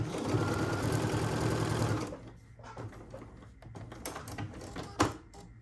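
A sewing machine runs in a fast, steady whir for about two seconds while stitching a quilt-as-you-go piece, then stops, followed by quieter handling clicks and a sharp knock nearby.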